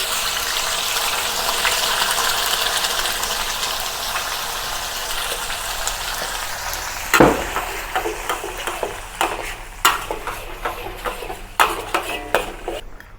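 Blended onion, garlic and spices sizzle in a pan with curry leaves for a Malaysian squid curry, a steady hiss followed by repeated clanks of a utensil stirring against the pan.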